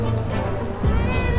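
A cat meows in the post-apocalyptic survival game 60 Seconds Reatomized, a single clear, fairly close meow rising then falling over a steady hum of game ambience.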